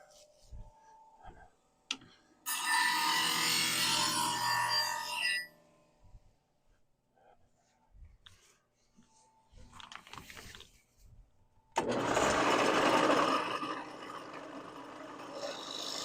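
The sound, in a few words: bench grinder sharpening woodturning tool burr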